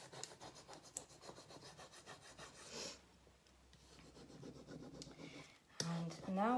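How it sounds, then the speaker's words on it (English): A rub-on transfer is rubbed onto a mirror by hand, a soft repeated scratchy rubbing that is quiet and close, with a voice talking intermittently. "I'm going to start from kind of one side and rub it on"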